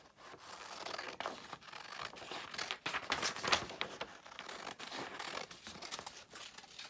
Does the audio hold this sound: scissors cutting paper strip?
yes